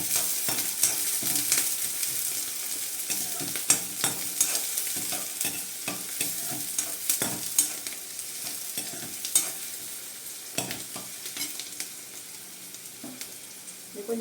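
Onions fry in hot oil in a pan, a continuous near sizzle with frequent crackles and the scrape and tap of stirring throughout.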